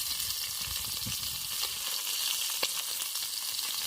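Masala-coated river fish frying on a hot griddle beside a river, giving a steady close sizzle and crackle throughout with a few sharper pops and no talking.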